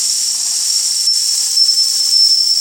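Steam hisses steadily from a vintage German-made Wilesco D5 tin toy steam engine as it is released to stop the machine, a loud continuous high whistle-like hiss close by.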